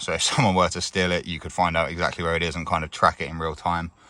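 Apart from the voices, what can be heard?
No everyday noise stands out behind the speech.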